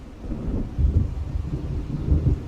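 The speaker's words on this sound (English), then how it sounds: "It seems there's a storm coming." A thunderstorm in the video game Alan Wake brings deep rolling thunder rumbles with a wash of rain, swelling twice in low booming surges across a short stretch with no talking.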